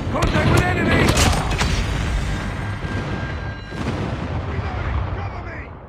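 Airstrike explosions and gunfire in the mobile shooter Call of Duty Mobile during a team deathmatch against bots: dense, continuous booms and shots, loud and busy throughout with no clear pauses, under game voice callouts.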